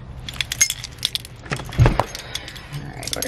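A bunch of keys jangling close by as someone heads out of the house, bright metallic chinks and rattles scattered through the clip, with a brief louder clatter in the middle.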